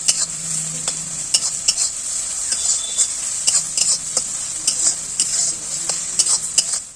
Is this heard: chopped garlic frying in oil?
yes